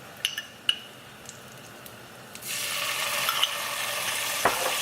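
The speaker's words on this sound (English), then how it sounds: "So that will fry that a little bit in the bacon fat." Garlic, pepperoncini and olive oil hit hot bacon fat in a pan on low heat: a few utensil clinks, then a steady close sizzle that starts partway through and continues to the end.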